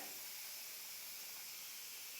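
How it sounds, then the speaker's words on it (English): Steam hisses steadily from the released valve of a pressure cooker after a bone broth cycle, a continuous broadband rush of airy noise, close and unbroken with no talk. "so I'm going to let off the steam"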